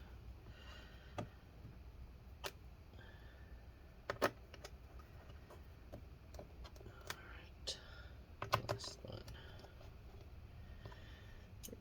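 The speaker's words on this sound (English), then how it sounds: "let's get the last few screws in" An electric screwdriver drives the last screws into an ASUS Chromebook C536E laptop case: scattered sharp clicks and ticks from the small tool and screws, close and fairly quiet, with a soft handling rustle between them.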